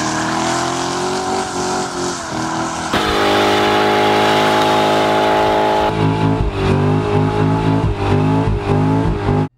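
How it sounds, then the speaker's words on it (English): Chevrolet C7 Corvette doing a burnout, its engine roaring loud and close at high revs in sustained bursts with shifts in pitch between them as the tires are spun, with no talking. "it can light the tires up without any trouble whatsoever"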